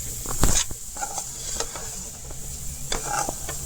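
Radish sweet being stirred in a pan after the gas is turned off, with a spoon scraping and knocking against the pan in a few distinct strokes over a soft, faint background sizzle.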